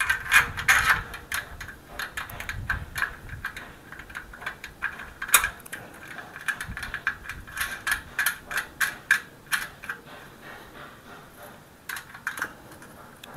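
Aluminium Krisbow scaffolding parts are tightened during assembly, giving a run of quick ratcheting clicks and metallic taps, irregular at first and then in a steadier clicking rhythm, close and moderately loud.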